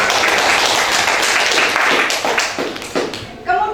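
A classroom claps for a few seconds, a dense patter of hands that thins and fades toward the end. A voice speaks briefly as it dies away.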